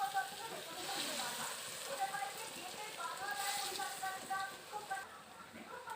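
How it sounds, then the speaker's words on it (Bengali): Pea-lentil fritters deep-fry in hot oil, giving a steady bubbling sizzle that runs throughout beneath intermittent talking. "দেখুন, এইভাবে বড়াগুলো ভেজে নিচ্ছি, বড় বড় করে ভাজছি, বড়ার দম বানাবো বলে।"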